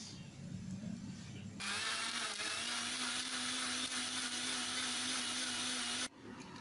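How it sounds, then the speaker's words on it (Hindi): An electric blender grinds mango with sugar and cold milk, starting as a low churning whir and then jumping to a loud, steady high-pitched roar for several seconds before cutting back down to a lower hum. "अब हम इसे ग्राइंड करेंगे।"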